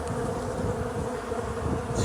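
A swarm of bees buzzing steadily and close by, a continuous droning hum with no other sounds over it.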